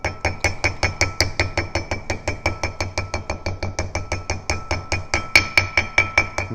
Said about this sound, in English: And just tap this in with a little hammer